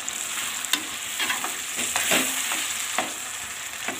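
Chicken and vegetables with vinegar and soy sauce are stirred in a hot pan for Chinese rice, a close, continuous sizzle broken by several scraping stirs.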